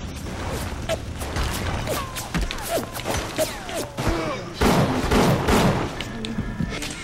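Gunfire crackles through the video game BioShock, with repeated sharp shots and thuds mixed with mechanical clanks and creaks, growing heavier and louder in the second half.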